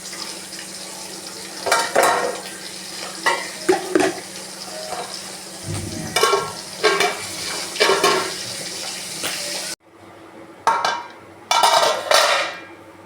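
Fish curry bubbles and clinks in a pot on the stove, with intermittent stirring and metal scrapes over a steady low hum.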